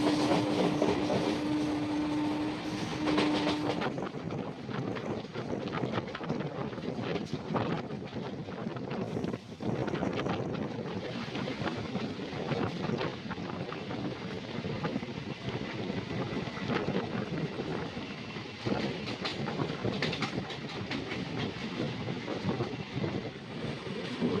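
The first night local train from Howrah to Medinipur rumbles along steadily, heard from on board with continuous wheel roar, rattling carriage noise and heavy wind buffeting throughout.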